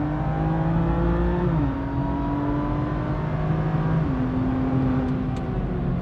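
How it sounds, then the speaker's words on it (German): A car at full throttle on a track day at the Bilster Berg circuit, heard from onboard: a loud, steady engine note climbs and drops with two upshifts as it powers out of a corner. "Schön an den Curb dran und raus beschleunigen."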